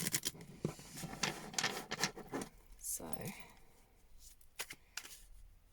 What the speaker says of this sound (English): So I'm just going to do one more shuffle,